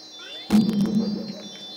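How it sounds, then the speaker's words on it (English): Ectoplasm sound effect in Super Mario Sunshine, casino stage: one sudden loud burst that settles into a low, wavering hum and fades out over about a second. "That was the sound of"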